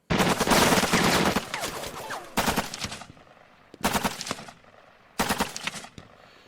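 Gunfire bursts from the tactical wargame Lock 'n Load Tactical Digital, set in Chin Dhuc, Australia: four loud, crackling volleys separated by short pauses, the first long and dense, the later ones shorter and fading quickly.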